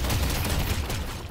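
Viscous's projectile gun in the Valve video game Deadlock fires in a dense, loud burst, with booming low thumps and sprays of noise overlapping continuously throughout.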